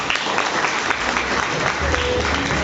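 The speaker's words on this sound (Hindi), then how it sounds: "आपके लिए तालियां होनी चाहिए" A seminar audience gathered for a talk on chemical-free organic products claps together, a full, continuous burst of crowd applause that holds at an even level from start to finish.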